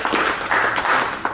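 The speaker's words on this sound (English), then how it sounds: "if you could all just join me in giving Oscar a round of applause" Brief burst of crowd applause at a county commissioners court meeting, a short patch of dense clapping from a room full of people.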